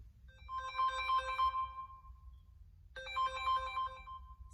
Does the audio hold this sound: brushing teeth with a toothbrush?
no